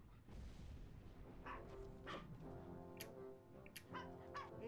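Several dogs bark in the Wallace and Gromit adventure game The Last Resort, set at a West Wallaby Street waterworld; a run of sharp, repeated barks over a steady background of game music and ambience.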